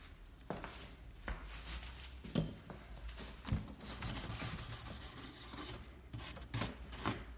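A brush scrubs chemical stripper over the surface of an old dark-stained wooden chair, a steady close rasping rub broken by a few sharper scraping strokes, with no talk.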